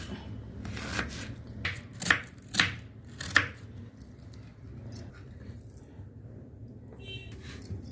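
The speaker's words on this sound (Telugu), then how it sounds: "టమాటా, ఉల్లిపాయ చిన్న ముక్కలు తరగాలి." A knife chops tomato and onion into small pieces on a board, a few sharp close cuts in an uneven rhythm that fade into quieter handling.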